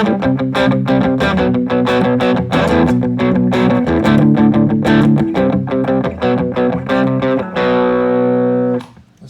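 Loud electric guitar through a ProCo Brat distortion pedal set about a quarter up, playing a rhythmic riff of chords and notes, ending on a sustained ringing chord that cuts off.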